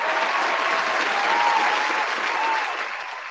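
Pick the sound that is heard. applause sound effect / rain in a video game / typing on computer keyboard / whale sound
applause sound effect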